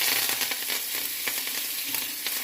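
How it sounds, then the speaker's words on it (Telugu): Garlic, cumin, mustard seeds, dried red chillies and curry leaves sizzle and crackle in about a spoonful of hot oil as a tempering. The frying hiss is steady and close, with small pops throughout and no voices. "ఆయిల్ వేసిన తర్వాత వెల్లుల్లిపాయలు, జీలకర్ర, ఆవాలు, ఎండుమిర్చి, ఇది చూడండి కరివేపాకు"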